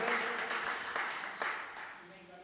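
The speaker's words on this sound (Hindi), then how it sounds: "एक बार जोरदार ताली उनके सम्मान में।" A crowd at a religious ceremony claps in honour of donors, a loud burst of applause that gradually thins and fades, with some voices mixed in.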